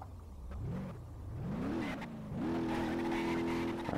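A Lotus Evora GTE in BeamNG Drive, its engine revving up and down in waves before settling into a steady high drone, with tires scrubbing and skidding as the car slides about.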